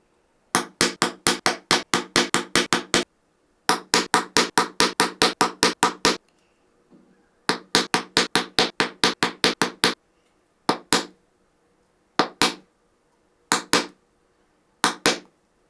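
A stitching prong or single hole punch is hammered into leather for a handmade bifold wallet, in close, sharp strikes delivered in quick runs of about ten, then slowing to a few isolated blows, with no voices.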